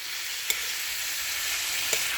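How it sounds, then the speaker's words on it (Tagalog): Pork pieces browning in a hot pan for binagoongang baboy sa gata, a steady, close, even sizzle that runs throughout, broken only by two faint clicks of a utensil. "nilagay ko na yung ating pork. Medyo brownin lang natin siya ng konti."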